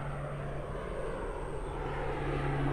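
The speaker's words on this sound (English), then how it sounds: "The airplane again, so fast." A propeller airplane flying overhead, a steady droning engine hum with a constant low tone, moderately loud and continuous outdoors, slowly swelling.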